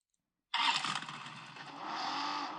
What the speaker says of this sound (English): Oh, the engine sounds different somehow.